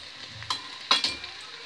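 Mustard greens saag hit a hot tadka, giving a soft, faint sizzle with a few brief crackling bursts as the pan is stirred.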